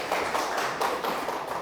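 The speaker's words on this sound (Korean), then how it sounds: "큰 박수 부탁드립니다" Seminar audience applauding after a session speaker on generative AI regulation is introduced, a dense, steady patter of many hands clapping at even loudness throughout, with no voices over it.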